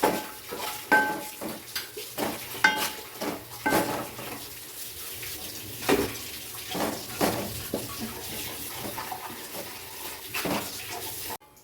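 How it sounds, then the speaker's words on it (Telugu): Jaggery, coconut and dry-roasted powder are stirred in a pan until the jaggery melts, giving repeated close scraping and clinking of a spoon against the metal in an uneven rhythm. "ఈ బెల్లం మొత్తం కరిగిపోయేదాకా బాగా మిక్స్ చేసుకోవాలి"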